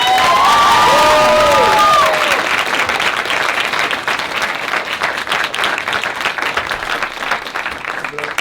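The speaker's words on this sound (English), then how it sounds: "Put a big round of applause for Over the Garden Wall" Crowd applause and cheering at a Q&A after a screening of Over the Garden Wall, dense clapping with a few high shouts and whoops at the start, then settling into steady, slightly thinner clapping that carries on.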